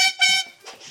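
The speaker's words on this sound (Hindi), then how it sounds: "और अब मैंने आपकी गाड़ी का हॉर्न सुना है" A car horn honks in quick, loud, tonal blasts, two close bursts followed by a fainter, softer tone.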